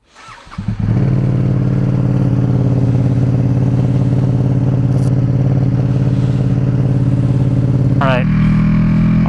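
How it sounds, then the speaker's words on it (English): A loud motorcycle fires up in a garage, its engine catching after a brief cranking and settling into a steady, heavy idle that fills the space, then blipping up in revs near the end. "this bike is very loud when it starts"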